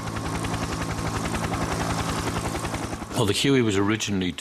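A Bell UH-1 Huey helicopter's rotor thumps in a steady, rapid rhythm under engine drone, then gives way to loud sweeping tonal sounds near the end.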